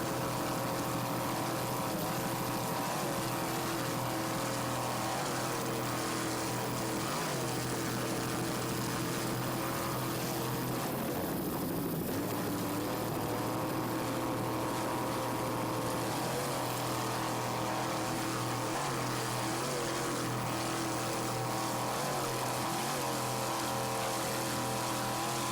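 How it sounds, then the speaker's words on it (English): A racing powerboat with a 390-horsepower Mercury inboard engine drones steadily at speed in an offshore race off Islamorada, a sustained throaty roar with slight pitch shifts from throttle changes, heard from a distance without talk. "Just listen to that 390 horsepower Mercury inboard."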